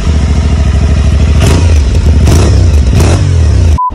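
A motorcycle engine roars loud and close while riding, with a steady throbbing exhaust note and several rising revs and gear-change surges. It cuts off abruptly at the end.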